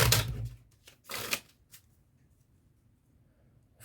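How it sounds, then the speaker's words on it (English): Playing cards are given false shuffles during a card magic trick, producing a few short bursts of riffling, crisp flutters of card edges separated by pauses and a quiet tap near the end, close and alone. "So we just do some fake shuffles."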